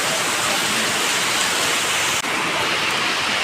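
Heavy rain pours down in a dense, steady hiss that stays loud and unbroken throughout, with no voices over it.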